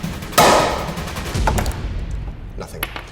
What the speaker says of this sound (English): That's why I'm using the bursting of a balloon.